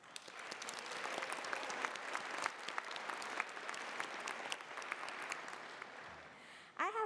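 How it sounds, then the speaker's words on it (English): Steady applause from a graduation ceremony audience honoring a professor, an even patter of many hands clapping at moderate distance, ending abruptly with a brief voice. "Please congratulate Professor Sandvarmurthy by giving him a round of applause."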